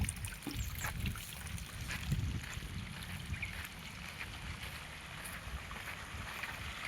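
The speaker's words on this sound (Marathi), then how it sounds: "ही आमचं पाणी चालू." Water spraying steadily from a farm sprayer rig with a water tank in an orchard, a continuous broad hiss with low rumble, close and unbroken throughout.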